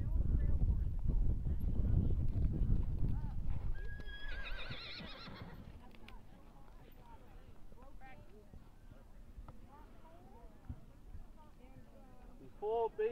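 Rhythmic hoofbeats of a horse in a rising trot during a dressage test, with a whinny, wind rumble early on and a voice speaking in the background.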